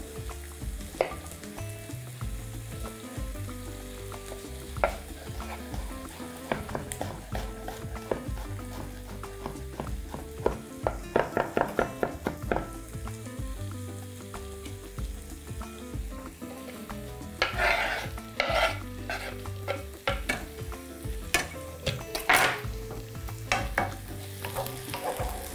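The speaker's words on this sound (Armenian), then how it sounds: "Տապակվող բանջարեղենին կավելացնենք սխտոր" Chopped vegetables with two cloves of finely minced garlic sizzle in a hot pan while a utensil stirs and scrapes, giving steady frying hiss with scattered clinks and scrapes and no talking.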